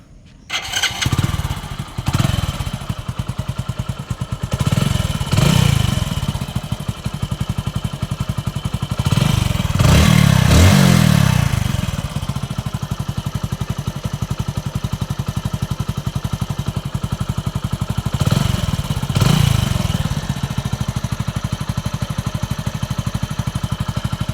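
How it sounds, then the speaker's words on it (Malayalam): A motorcycle engine cranks and catches, revving in a few bursts before settling into a steady, loud, close idle that continues throughout. "ഇനിയുള്ളത് നമുക്ക് എഞ്ചിൻ വണ്ടി സ്റ്റാർട്ടാക്കിയിട്ട് എങ്ങനെയുണ്ട് നോക്കുക"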